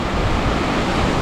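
Strong typhoon wind blasts the microphone with a loud, steady, unbroken roar.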